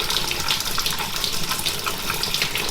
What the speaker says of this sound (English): I can now turn on this and show you that the water's coming out of there